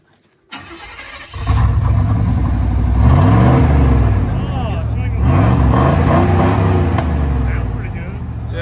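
A service truck with newly straight-piped exhaust cranks and fires up, then settles into a loud, raw idle broken by two sharp revs that rise and fall, close by, with people talking over it.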